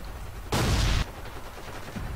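A single half-second burst of Bren machine gun fire in the Forgotten Hope 2 video game, loud and dense against a steady background hum, then quiet again.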